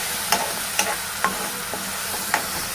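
Chili powder and coriander powder are being stirred in a frying pan, giving a steady soft sizzle with a spoon scraping through it in several brief, evenly spaced strokes, and no one speaking.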